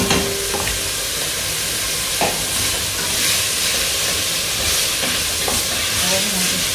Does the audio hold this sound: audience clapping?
no